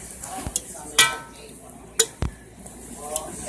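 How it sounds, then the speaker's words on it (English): Chicken and sausage gravy stirred in a pot, Cajun style, with a few sharp scrapes and clinks of the spoon against the metal spaced out over a faint background, and a voice talking now and then. "Let me try to get that stirred up a little bit"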